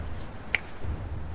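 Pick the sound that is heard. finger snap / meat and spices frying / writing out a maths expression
finger snap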